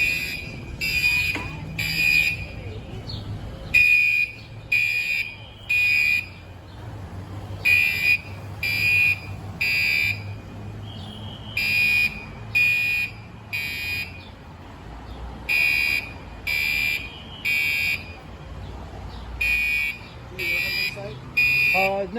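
A building fire alarm on Connecticut Avenue in Washington DC sounds in repeated bursts of high electronic beeps, pulsing in groups with short gaps, heard from outside over low street rumble and occasional voices.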